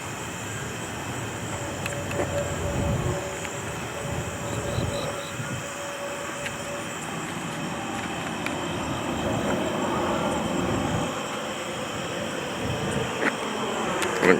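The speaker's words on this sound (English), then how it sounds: "We got a plane headed over us." An airplane passes overhead above a cemetery at night, a broad, steady engine roar that swells slowly and lingers far off for several seconds.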